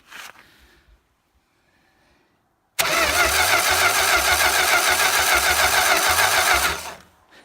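After faint clicks and a brief sputter, a V8 trike engine cranks, catches and runs loudly for about four seconds with a steady rough rumble, then cuts out.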